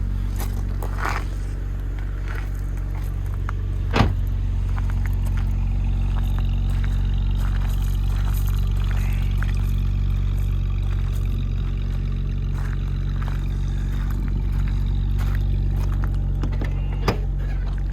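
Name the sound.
BMW Z4 coupé driving, engine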